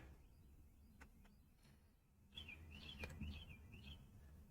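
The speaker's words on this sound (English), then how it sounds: "And the birds are" Small birds chirp outdoors on a mild day, a few faint, quick tweets repeating in the second half over a low background hum.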